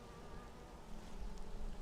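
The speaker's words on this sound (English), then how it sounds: "to have a really good look, I'd have to shake all of these bees off the frame" Honeybees buzzing on a hive frame during a brood inspection: a dense, continuous, faint hum of many bees close by, slightly swelling toward the end, with no talking.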